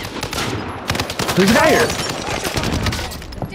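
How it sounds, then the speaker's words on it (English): Sustained machine-gun fire in a shooter video game, a dense crackling barrage heard throughout alongside players talking over voice chat. "We're getting shot at from on top of the hill."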